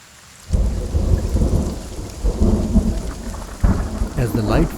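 Heavy monsoon rain pours steadily in the Mhadei forest while thunder rumbles and cracks close by, loud and continuous, with a sharp clap near the end.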